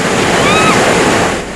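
Ocean waves off the Southern California coast roll in as a loud, continuous roar of surf, thick with wind noise and without pause.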